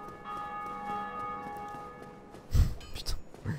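Church bells toll in the Dark Souls Remastered video game, a sustained ringing with long overtones held steady at moderate level, followed by a few heavier thuds and clanks near the end.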